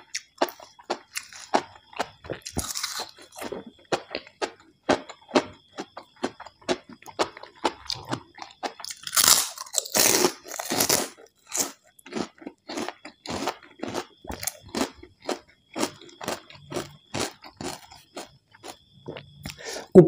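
Someone chews a spicy Thai salad of enoki mushrooms and shrimp up close, giving many sharp crunching bites and wet chews in an irregular rhythm, loud and crisp, with a few brief bursts of talk.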